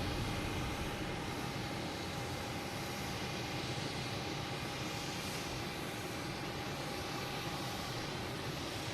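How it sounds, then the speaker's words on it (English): Lufthansa Airbus A340 jet on approach to land at Boston Logan Airport, a steady, broad engine roar holding at a constant level throughout, distant and continuous with no voices. "I did hear Lufthansa clear for landing. The A340."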